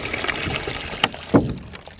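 Water splashing and trickling as it is poured into a plant pot, with a brief gush near the end, close and fairly loud.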